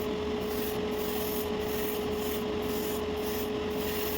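Gaahleri Mobius TG airbrush with a 0.5mm nozzle spraying heavy coats of clear coat over carbon decals, a steady continuous airy hiss with faint periodic pulses throughout, close and alone with no talking.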